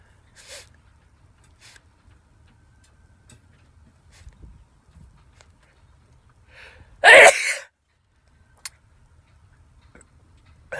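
A person sneezes once, a single loud sharp burst in an otherwise quiet room with faint ticking and small background clicks before and after.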